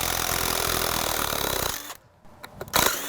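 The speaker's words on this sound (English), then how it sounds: "Take these screws out." A power drill or driver whirs with a rapid rattling buzz while backing screws out of a wooden concrete form on broken concrete stairs, then stops abruptly, followed by a few short clunks and handling knocks.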